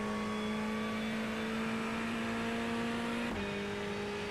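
Ferrari 488 GT3 Evo race car in iRacing at Watkins Glen, engine holding a steady loud drone with a clear harmonic whine, then a brief dip and pitch step near the end as it shifts and keeps accelerating.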